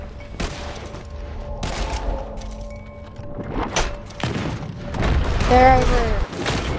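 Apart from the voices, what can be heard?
gunshots from a gun in the video game Red Dead Online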